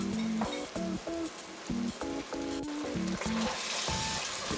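Fresh crushed tomatoes cooking in a pan for matar paneer, giving a steady close sizzle and bubbling under repeated tonal kitchen clatter or beeps, with no talking.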